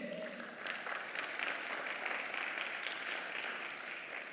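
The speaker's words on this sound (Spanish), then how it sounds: "¿Cuántos pueden dar un aplauso al Señor?" Church congregation applauding during a Spanish-language worship service, a steady wash of many hands clapping together throughout, moderately loud with no distinct individual claps standing out.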